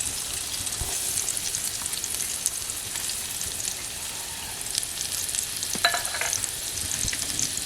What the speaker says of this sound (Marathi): लसूण आणि कांद्याची फोडणी.